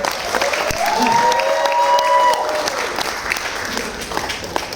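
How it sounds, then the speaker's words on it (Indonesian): An audience at a health seminar in Tangerang Selatan breaks into steady applause, a full room of clapping with a few cheers and a voice rising over it before the clapping tapers off. "Boleh tepuk tangan ya?"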